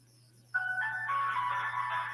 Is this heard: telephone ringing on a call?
yes